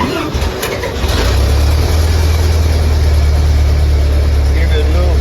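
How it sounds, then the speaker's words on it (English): A 1926 Ford Model T engine cranks on its starter and catches, settling into a loud, steady low idle rumble close by after a brief clattery start. "My push button to start the starters down here under the seat."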